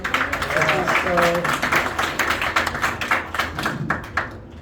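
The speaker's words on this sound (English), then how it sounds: "A round of applause for him." An audience applauds a volunteer at a magic show, a run of fairly loud, irregular claps with someone talking over the first part before the clapping fades.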